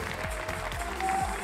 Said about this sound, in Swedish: Stor applåd!